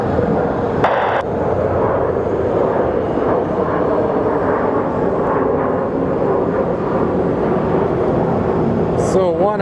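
A Southwest airliner taking off at Phoenix Sky Harbor makes a loud, steady jet roar throughout, with talk audible over the engine noise.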